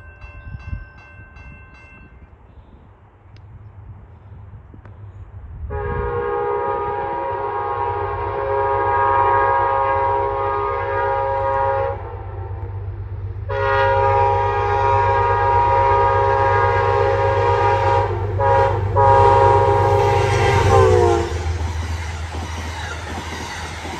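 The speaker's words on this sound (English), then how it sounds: "you're going to Amtrak Empire Service." Amtrak Empire Service train passing at golden hour: rumbling wheels and engine under two long, loud horn blasts separated by a short gap, with the rail noise continuing after the second blast.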